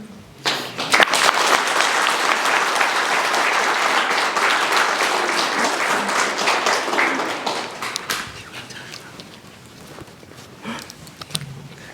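Audience applause for a contestant at the Miss Samoa NSW 2025 pre-pageant interviews, a dense burst of clapping that swells quickly, holds steady for several seconds, then thins out and fades near the end.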